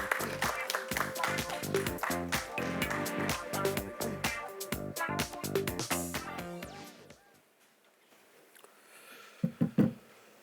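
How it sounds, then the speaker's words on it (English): Conference audience at GFF'25 applauding as a speaker is welcomed on stage: sustained dense clapping from a large hall that fades out, followed by a few isolated claps near the end. "Can we welcome him with a thunderous round of applause,"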